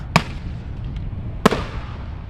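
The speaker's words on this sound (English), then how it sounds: "not really sure why he was firing off the fireworks" Bird controllers at Schiphol airport fire fireworks, and two sharp, loud bangs ring out over a steady background rumble about a second apart, each with a short echoing tail.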